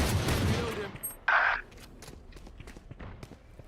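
Gunfire in the Valorant shooting game: a dense burst of shots up front, then a sharper single bang followed by scattered lighter impacts and clicks, with a faint murmur underneath.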